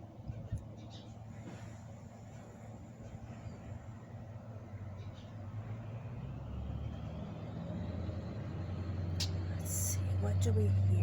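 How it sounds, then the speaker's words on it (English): A big truck rumbles past outdoors, heard from a backyard, its low engine drone building gradually and growing loudest near the end, with faint background noise throughout. "I could hear a big truck going by"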